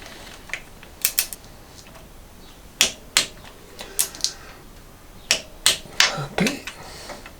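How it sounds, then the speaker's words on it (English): Sharp metallic clicks from a torque wrench tightening motorcycle exhaust nuts to 9 Nm on a Honda CB750, arriving in small irregular clusters with quiet gaps between, close and fairly soft. "I'll torque these up to 9 Newton meters."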